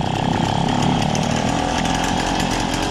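A restored Motobécane 88 moped's small two-stroke engine runs with a steady, buzzy, loud idle close by, a constant rattling drone with no pauses or talk.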